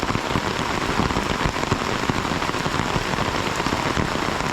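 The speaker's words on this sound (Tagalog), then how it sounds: "Pasensya na kasi malasang ulan eh." Steady, dense rain pours onto surfaces nearby during a stormy birthday gathering, a loud, unbroken patter of countless drops with no voices over it.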